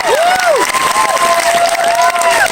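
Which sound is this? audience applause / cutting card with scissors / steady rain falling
audience applause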